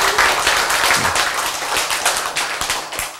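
A congregation at a church sermon claps together. A short, loud burst of dense applause fades into scattered claps, with faint background noise and no clear speech.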